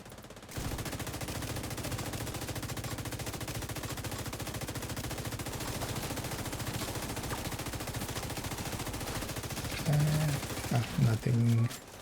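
Rapid, continuous video game gunfire with shock rounds, a dense rattling stream of shots lasting several seconds, then a few heavier bursts near the end, with a voice talking over it.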